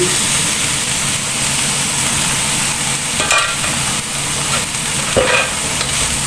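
Half a cabbage added to vegetables stir-frying in a pan for lumpia filling, producing a loud steady sizzle with periodic utensil scrapes and tossing noises up close.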